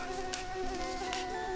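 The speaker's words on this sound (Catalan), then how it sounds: "Vivia un mosquit." A mosquito buzzes close by in a steady, continuous high whine with sustained tonal hum, alone without talk, during a told children's story.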